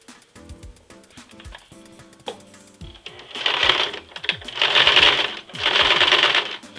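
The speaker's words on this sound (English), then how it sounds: "Sewing with the free arm, we begin at a side seam, preferably the inner side seam." A sewing machine stitches around a jeans hem on the free arm near the inner side seam, starting with scattered clicks and handling noise, then running in loud, steady bursts.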